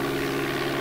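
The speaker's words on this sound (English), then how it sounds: "we got the Lockheed U-2, a really fast jet" Simulated engine of a Lockheed U-2 jet in the DOS game Flight Simulator 4: a steady, droning engine hum with a buzzy tonal edge, continuous and unchanging through the short clip.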